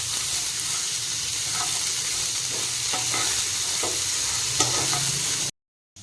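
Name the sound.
kankada (spiny gourd) and potatoes frying in oil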